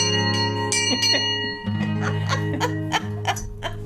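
A bell rings repeatedly with clear sustained metallic tones, several strikes overlapping in a bright, resonant sequence close by, with no talking.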